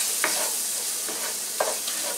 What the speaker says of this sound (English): Get garlic browning up a little bit.